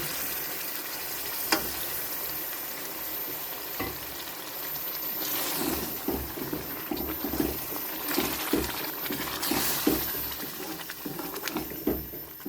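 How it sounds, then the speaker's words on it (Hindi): Water is poured into a pan of fried peas, setting off a steady sizzling hiss with bubbling and scattered stirring clicks, fairly quiet and close, with no talking. "अब मैं इसमें पानी डालने लगी हूँ, तकरीबन 1 गिलास, आधा गिलास, ताकि मटर अच्छी तरह गल जाए।"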